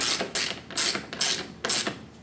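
A ratchet wrench tightens bolts on a 2019 KTM 300 XC dirt bike, giving three close bursts of rapid metallic clicking, each about half a second long, with brief pauses between them and no voices.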